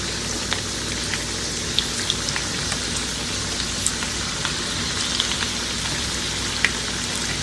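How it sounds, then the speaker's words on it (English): Plantain slices for tostones sizzle in hot oil, a steady soft crackle with scattered sharper pops throughout, close and continuous with no talking. "we're going to fry the bottom side, and then we're going to flip them and fry the other side"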